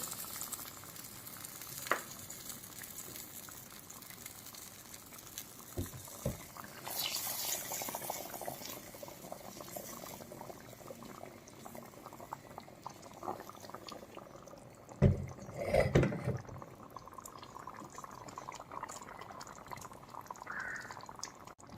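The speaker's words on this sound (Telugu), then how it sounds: "ఇప్పుడు పులుసు పోసేసుకుందాం చింతపండు పులుసు" Tamarind juice poured into fish curry in a clay pot, with soft liquid bubbling and sizzling, a few brief clinks, and a louder splashing pour around the middle.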